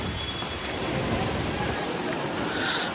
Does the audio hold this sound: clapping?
no